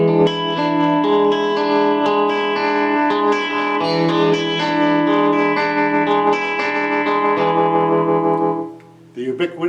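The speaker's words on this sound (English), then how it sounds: "It's technically tremolo, and it's used in an awful lot of songs" An electric guitar played through a Line6 Pod modeler with a tremolo effect rings out in sustained chords whose volume pulses rhythmically, loud and close, before the notes cut off near the end.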